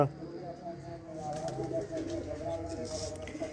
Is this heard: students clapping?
no